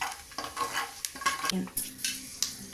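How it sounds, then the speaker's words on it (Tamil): Spices crackling and frying in hot oil for Tamil coconut milk rice, a busy close sizzle broken by scraping stirs and light clinks of a spoon against the pan. "காஞ்சதும் ஸ்பைசஸ் எல்லாம் ஆட் பண்ணிக்கலாம். ஸ்பைசஸ் எல்லாம் நல்லா பொரியட்டும்."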